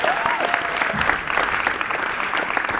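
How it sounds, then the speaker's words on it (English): Studio or stage audience applauding steadily, a dense wash of many hands clapping at close range for the whole stretch with no break. "Give him a round of applause."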